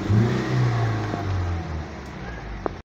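Toyota Vios second-generation engine revving steadily after a throttle body fix, a continuous mid-pitched drone that holds for about three seconds and ends with a brief sharp knock.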